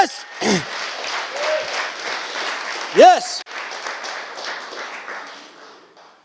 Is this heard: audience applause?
yes